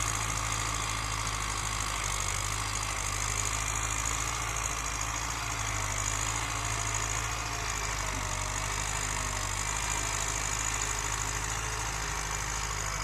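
A tractor engine ploughing a garden plot drones steadily and close by, a low throbbing rumble with no breaks that holds at constant loudness throughout.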